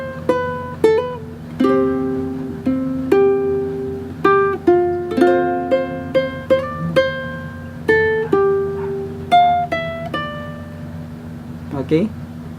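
Fingerstyle ukulele plays a melody, plucked single notes and small chord shapes ringing clearly in a moderate rhythm, close and solo, ending with a brief strum.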